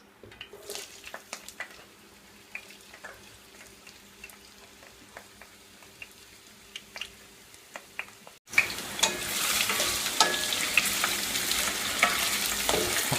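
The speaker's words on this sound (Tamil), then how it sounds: "வெங்காயம் பச்சை மிளகாய் போட்டுடலாம்." Onion and green chili frying in a home kitchen pan for veg noodles: a soft crackle with scattered stirring clicks at first, then a sudden loud, steady sizzle as they hit the hot oil.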